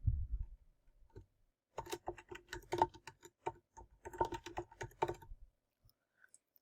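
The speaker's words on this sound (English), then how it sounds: "You'll type your text." Light tapping on a computer keyboard while entering text, quiet irregular bursts of clicks near the mic, with a short pause at the start and silence at the end.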